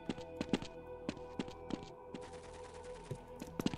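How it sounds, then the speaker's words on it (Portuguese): Sharp gunshots crack out in irregular bursts over a low ambient hum, some quick pairs and single shots, with a hissing texture in between, in the video game Half-Life during a fight with soldiers. "Ah, tá rolando tiro, cara."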